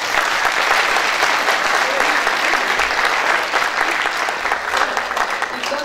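An audience at a film premiere in Krupanj gives sustained applause. Dense clapping from a large crowd fills the whole stretch at an even, strong level.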